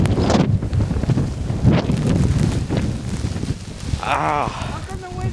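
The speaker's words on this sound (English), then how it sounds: "Another gust of wind." A strong gust of wind in a 2010 blizzard buffets the microphone with loud, rumbling roars that rise and fall, while people talk nearby.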